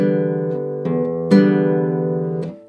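A guitar plays a short bossa nova pluck pattern with an anticipated final pluck: a few chord plucks ring out close and clear for under three seconds.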